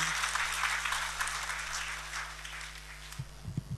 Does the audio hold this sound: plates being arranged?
no